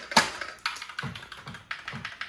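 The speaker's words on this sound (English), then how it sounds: "What do you think about this spacebar? Does this sound kind of good?" Spacebar on a custom-built computer keyboard pressed repeatedly: a sharp first clack, then several softer thocking presses with deeper low-end bumps, close and alone.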